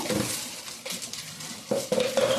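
Egg fried rice stirred in a pan with a metal utensil, giving scraping clinks and clatters against the pan in irregular bursts, close and fairly loud with no talking.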